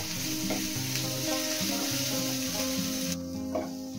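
Ginger garlic paste sizzles steadily in a hot pan for bottle gourd masala, a continuous close frying hiss with a tune playing softly underneath.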